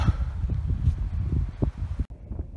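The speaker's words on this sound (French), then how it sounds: "Il y a énormément de vent." Strong wind buffets the microphone near a mountain hut on the way up Pic Madrès in the Aude, a steady low roar with gusty swells that drops out briefly near the end.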